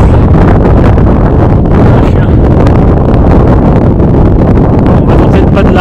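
Strong warm wind roars steadily across the Col de Bœuf, a Pyrenees mountain pass, buffeting the microphone with loud, continuous low rumbling and gusty turbulence and no break in the noise.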